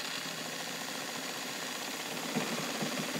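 A Toyota Morse Fotomatic IV zigzag sewing machine on a patio table runs steadily through a straight stitch, a continuous soft mechanical hum and fine rattle at a constant pace, close and unbroken.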